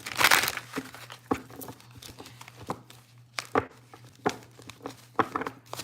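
Tarot cards being shuffled up close, a series of sharp papery riffles and slaps in irregular bursts, with quieter rustling between them.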